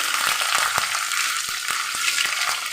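Curry leaves, crushed ginger and garlic fry in a pan with a steady crackling sizzle, punctuated by sharp pops and stirring clicks at an irregular rhythm.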